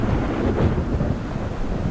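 Steady roar of a video-game thunderstorm in Perils of Man, dense rumbling thunder and rain wash filling the whole stretch without a break, loud and continuous with no voices.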